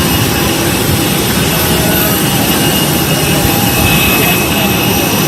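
Jet engines roar steadily while passengers climb the stairs to board an airliner, a loud, close, continuous rushing hum with a faint high whine that never lets up.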